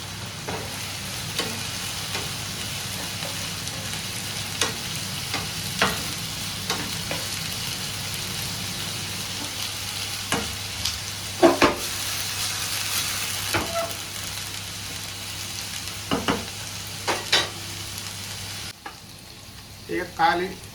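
Diced onion and capsicum fry in a pan with a long, steady sizzle and periodic spatula scrapes and knocks, near and even, ending as the heat sound drops away.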